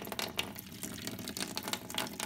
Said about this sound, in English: And now I'm just going to add water to it.